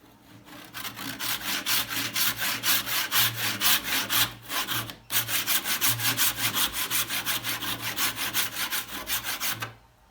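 A hand saw cuts back and forth in wood to widen the kerf for an axe handle, giving a steady rhythmic rasping with one short pause midway, close and alone.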